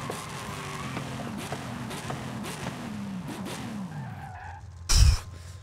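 A Dodge Charger SRT Hellcat Redeye in Forza Horizon 5 brakes hard from very high speed, tires skidding and squealing as engine pitch falls, ending in a sudden loud thump.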